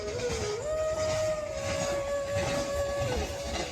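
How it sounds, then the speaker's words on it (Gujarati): A diesel tanker freight train rolls past a farm field, its long steady whistle tone sounding for about three seconds over the continuous rumble and clatter of the wagons at moderate distance. "ડીઝલના ટાંકાવાળી ટ્રેન નીકળી છે"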